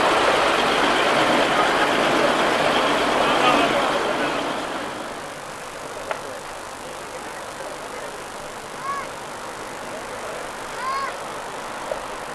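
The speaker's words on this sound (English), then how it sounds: "which is an ERF 2-axle box van, entered by Derek Pennine of Leeds" An ERF two-axle box van rolls past at a road run, a broad engine and road rumble that is loud at first and then eases as it moves away, with a few faint squeaks afterward.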